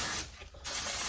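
Short spray-paint bursts coat a Dinky Jaguar toy car, a close airy hiss that cuts out for about half a second in the middle and then resumes.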